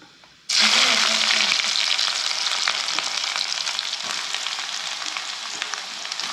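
Crushed onion sautéing in a pan: a sudden loud burst of sizzling as it hits the hot oil, then a dense, steady frying hiss that eases slightly over several seconds, with faint stirring ticks, close up and without talk.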